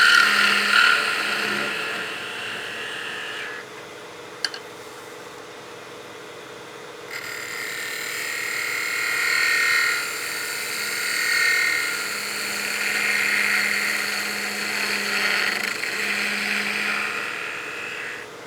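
Wood lathe shaping the foot of a snowman oil candle, a continuous high whining spin with shifting tool-cut pitch, briefly dropping during a pause before the cutting resumes, close and sustained without talk.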